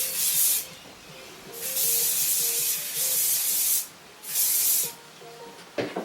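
Hairspray hisses onto curly hair in four bursts, each about a second long with short pauses between them, close and fairly loud, with no voices.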